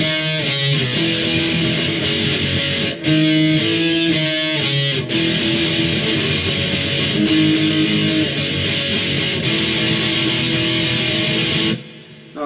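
Loud, saturated distorted electric guitar plays the chorus of a song, sustained crunchy power chords with brief rhythmic stops, running continuously before dropping away abruptly at the close.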